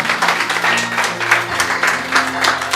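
Church congregation applauding in steady, dense clapping throughout, with a sustained musical drone beneath and no break in the noise.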